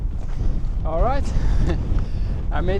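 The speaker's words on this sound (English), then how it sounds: "It's pretty windy" Strong wind at a mountain pass buffets the microphone in a constant roar, while a person speaks briefly over the rushing noise.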